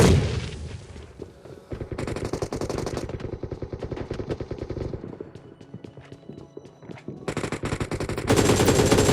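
Rapid automatic gunfire in a BGMI battle-royale match, loud sustained bursts rattling in quick rhythm with short pauses between volleys, no talking over it.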